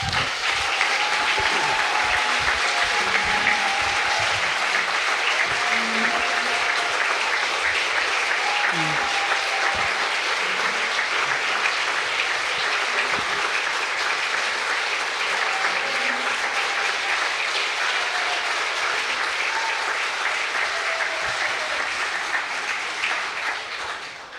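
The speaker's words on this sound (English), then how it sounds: "give these ladies and gentlemen a round of applause" Steady, sustained audience applause from a crowd, dense and continuous for the full length, with a few faint voices and whistle-like tones mixed in beneath the clapping.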